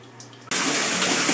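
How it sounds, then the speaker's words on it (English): Warm water gushing from a bathtub tap into the tub, starting abruptly after a quiet moment and then pouring steadily and loudly as a broad, continuous rush. "You're going to want to first fill your bath with warm water."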